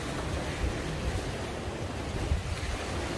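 Waves breaking steadily on the small beach at Batu Barak, Bali, a continuous close wash of surf with a little wind noise and no voices.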